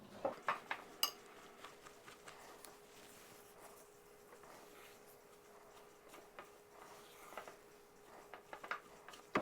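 Coconut cookie dough being stirred in a bowl, its utensil giving quiet, irregular scrapes and clinks against the bowl with a few sharper knocks near the start and end.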